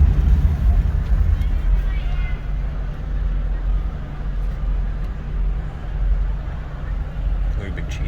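Traffic on a busy street gives a steady low rumble of passing vehicles that swells and fades, with voices talking over it.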